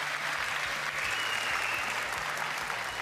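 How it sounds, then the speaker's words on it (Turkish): A crowd applauds at a talent show, with dense, steady clapping that fills the moment at moderate volume. No voices rise above it. "alkışta geliyor."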